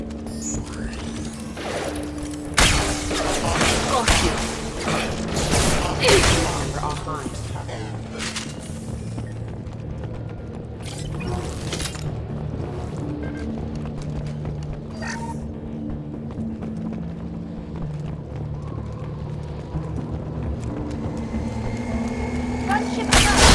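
Gunfire in the video game Mass Effect 2: sharp loud shots and impacts clustered early, then sporadic cracks over a steady mechanical game hum, with occasional speech.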